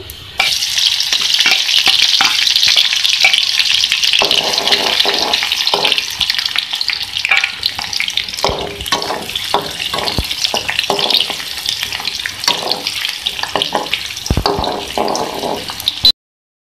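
Loud, steady sizzling of garlic and onion frying in hot ghee, with intermittent scraping and clinking of a spoon stirring the pan throughout.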